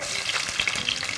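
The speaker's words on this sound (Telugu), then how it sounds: "నూనె కాగింది కదరా, ఇప్పుడు పోపు వేద్దాం కూరకాయ. ఇందులో ఆవాలు, వెల్లుల్లిపాయ ముక్కలు," Mustard seeds and chopped garlic hit hot oil, giving a steady, close hiss and crackle of frying with small popping bursts throughout.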